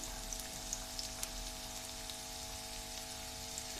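Chopped onions go into hot oil for a tadka while cooking a beef paya dish, giving a soft, steady sizzle and crackle with a few sharper pops.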